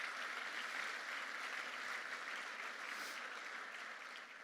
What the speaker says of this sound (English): So another round of applause, please, for United Way.